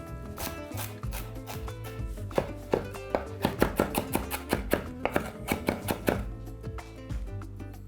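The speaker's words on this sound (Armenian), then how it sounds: "մանր կտրատում և ավելացնում ենք" Quick, steady knife chops of fresh herbs on a cutting board, speeding into a dense rhythmic run of sharp taps before slowing near the end.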